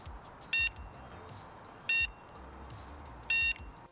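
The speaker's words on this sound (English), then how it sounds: "Now the button below is the horn," Fuze electric scooter horn sounding three short, loud electronic beeps spaced evenly about a second and a half apart, with a faint low rumble of background noise between them.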